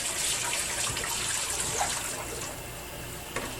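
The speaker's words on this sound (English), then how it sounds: "I'm just going to dump this down the sink" Whey from a batch of homemade Colby-Jack cheese pours steadily down a kitchen sink, a continuous close splashing gush of liquid with no talking.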